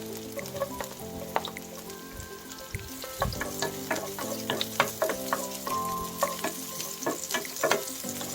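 Fresh garlic and onion sauté in hot oil with a steady, close sizzle. Light scraping and clinking from stirring breaks through the sizzle, and no one speaks.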